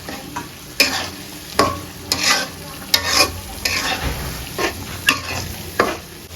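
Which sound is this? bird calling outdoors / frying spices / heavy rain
frying spices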